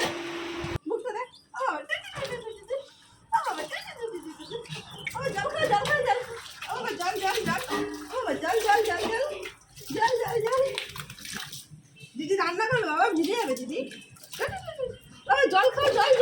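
Simba the dog gets a bath with water, with splashing and pouring running under almost constant, lively talk, including what sounds like a voice, across the whole stretch.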